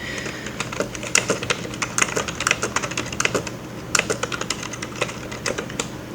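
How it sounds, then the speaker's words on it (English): A password is typed on a computer keyboard: a steady run of close, crisp key clicks with brief pauses, loud against a faint background hum and no talking. "I'm gonna type it again just to make sure that I can type it every single time"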